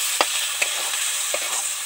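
Masala for Bengali bagda prawn kalia sizzles and fries in a pan, a steady close hiss broken by a few soft stirring scrapes.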